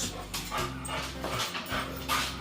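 Dogs whimper and yip softly close by, with some panting between the quiet cries.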